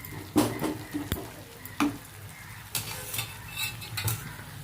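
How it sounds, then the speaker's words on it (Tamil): Fried chicken pieces for chicken manchurian tipped into a pan of boiling, sizzling sauce and stirred, with clattering spoon-on-pan knocks and steady bubbling sizzle throughout, close and moderately loud. "இப்போ இந்த ஃப்ரை பண்ணி வச்சுருக்க சிக்கனை போட்டுடலாம்."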